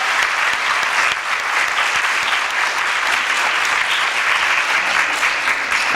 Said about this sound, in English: just a couple rounds of applause